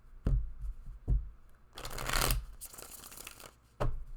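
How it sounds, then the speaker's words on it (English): A deck of playing cards is shuffled up close. Sharp single riffles and taps come at about 0.3, 1.1 and 3.8 seconds, around a longer riffle-and-bridge flurry in the middle, with no speech. "One more shuffle, then we'll cut the deck."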